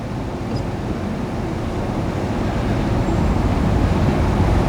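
Steady road traffic from cars queued near the Butterworth ferry terminal on the last night of the Butterworth–Penang ferry, a continuous low rumble and hiss with wind-like noise, fairly close and unbroken throughout.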